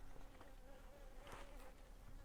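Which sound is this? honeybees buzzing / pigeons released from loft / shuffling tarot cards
honeybees buzzing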